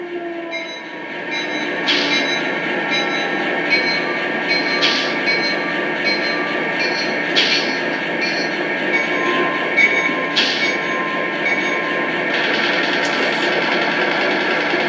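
Model GP35 locomotive's bell from a Legacy controller rings in a steady repeated pattern, the strikes shifting pitch and running on alone over a continuous rail rumble, with no voices.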